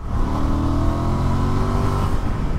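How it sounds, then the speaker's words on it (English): Honda XL750 Transalp motorcycle accelerating hard to overtake: a loud, steady engine drone held throughout, with the pitch rising slightly under the throttle and a broadband rush of wind around it. "Quick splurt of the throttle, get the overtake done."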